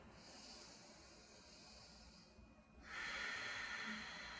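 Slow, deep yoga breaths on a mat, a long airy inhale followed by a stronger, louder exhale with a breathy hiss, close and alone without talk.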